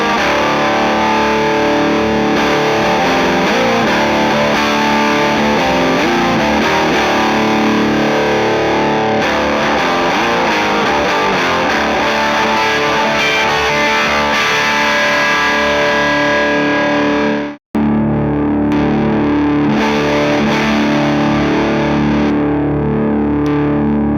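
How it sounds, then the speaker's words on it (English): Distorted electric guitar through a Ceriatone Son of Yeti hot-rodded Plexi-style amp, played continuously with thick, saturated tone, a brief cut near the end as the bright toggle switches, then resuming with a slightly changed character, loud and alone. "as I switch the toggle switch between the bright and bright plus gain, I want you to hear how much the toggle switches affect the overall tone."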